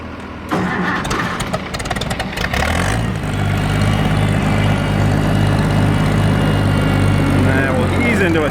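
An Oliver Super 88 tractor engine runs loud and close while augering during a wheat harvest, rough at first, then settling into a steady, heavy low drone with a rising pitch as it picks up load. A voice speaks briefly.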